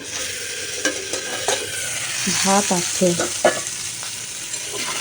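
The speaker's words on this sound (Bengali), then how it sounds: "চলুন ওদিকে আলু ভাজা বসিয়েছি" Potatoes fry in a pan with a steady close sizzle, broken by a series of scraping stirring strokes, while a voice speaks briefly over the cooking.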